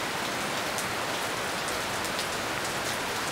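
Heavy rain falls steadily and evenly throughout, a dense continuous hiss close by with occasional louder drop patters and no voices.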